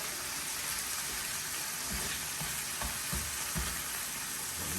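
Prawns fry for spaghetti with crab, chilli and garlic, a constant dense sizzle and hiss close up, broken by soft knocks and scrapes as they are stirred in the pan.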